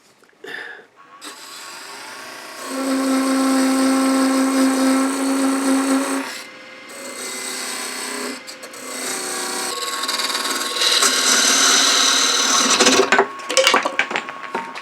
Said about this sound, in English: Now we're going to come back with our wooden tap.